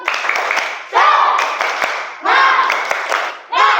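A fifth-grade class does a rhythmic spirit clap together, with patterned bursts of clapping mixed with children's voices and a brief pause between phrases, loud and close.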